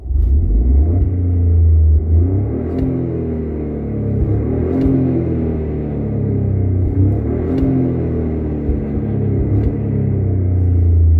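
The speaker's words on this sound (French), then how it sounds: "je sais pas si les retours d'échappement s'entendra au téléphone du coup" Engine and exhaust of a car heard from inside the cabin while driving, a loud continuous low rumble that swells and eases with throttle, steady and close, no talking.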